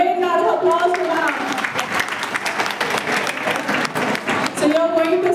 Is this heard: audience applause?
yes